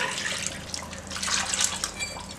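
Water poured from a tumbler into a pot of soaked rice for mutton dum biryani, a continuous splashing rush close by with no speech.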